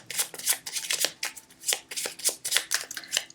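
Lenormand cards shuffled by hand before a reading, a close, crisp series of rhythmic riffling bursts with brief pauses between them.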